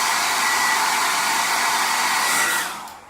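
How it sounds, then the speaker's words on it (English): A handheld blow dryer runs steadily at close range, aimed at an eyelash curler to heat it, producing a continuous loud airy whoosh that cuts off near the end. "It's my blow dryer. And blow upwards."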